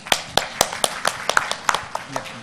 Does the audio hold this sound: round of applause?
yes